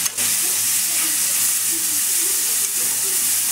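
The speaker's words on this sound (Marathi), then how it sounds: "आता मिरच्या टाकते आणि कांदा टाकते." Chillies and chopped onion dropped into hot oil with asafoetida in a pan, a loud steady sizzle and hiss running continuously from start to end, close up.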